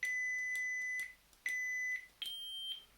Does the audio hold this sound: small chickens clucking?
no